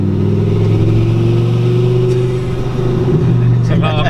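A 1,040 horsepower Lamborghini Gallardo engine revs loud and close, a steady deep roar that rises briefly near the end, with people talking over it.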